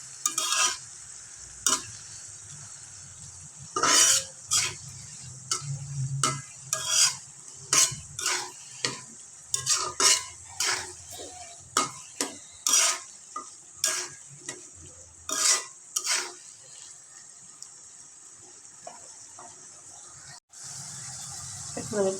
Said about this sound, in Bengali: এগুলো এখন ভালোভাবে কষায় নেবো আর কি মশলা